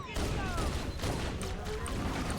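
Pistol gunshots in a shooter video game, a burst of sharp reports over a dense, busy game soundscape with a few high tones, continuous and fairly loud throughout.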